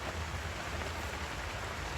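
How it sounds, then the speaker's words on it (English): Light rain falls steadily on a farm near a greenhouse, an even, continuous hiss of drops that holds without pause throughout. "Glad to get a little bit of rain."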